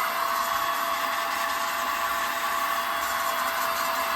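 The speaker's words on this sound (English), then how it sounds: "you can blow your dust away, look, like that" An electric blower used in a woodturning workshop to blow dust away, a loud continuous whirring rush of air held steady and close throughout.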